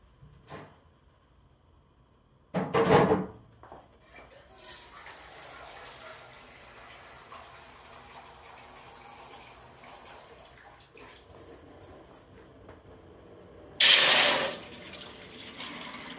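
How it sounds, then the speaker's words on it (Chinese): A tap gushes water into a container in two short, loud bursts near the start and end, with quieter household background between them. "好的，我们来去加水。"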